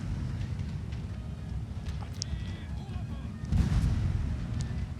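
Cannon fire with grape shot in a Napoleonic-era battle video game between France and Austria, heard as a steady, heavy low rumble of distant artillery with a louder surge of blasts near the end.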